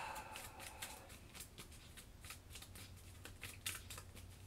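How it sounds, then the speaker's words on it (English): Deck of cards shuffled during a Kingdom Death Monster board game session, a quiet string of rapid riffling bursts and soft flutters repeating over a few seconds, close and alone. "Okay, we'll shuffle again."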